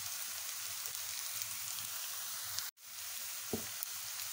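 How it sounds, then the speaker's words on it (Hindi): Onions frying lightly in a pan give a soft, steady sizzle, with a brief dropout partway through and a couple of faint clicks near the end. "तो देखिए प्याज हमारा थोड़ा हल्का सा फ्राई हो गया।"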